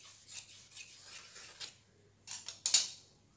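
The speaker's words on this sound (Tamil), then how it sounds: "இந்த பக்கம் ஃபோல்டிங்காக இருக்கிறத நம்ம வந்து கட் பண்ணி விட்டுருலாம்." Scissors snip through a folded silk saree being cut into dress pieces, a series of short close rasping cuts followed by a louder final snip, with no voices.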